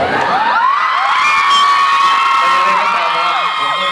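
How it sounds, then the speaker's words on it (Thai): A large crowd screams and cheers loudly and continuously, with high-pitched shrieks rising above the roar. "เสียงกรี๊ดนี่บอกเลยนะครับว่าคชานี่มีคนรักมากมายจริงๆ"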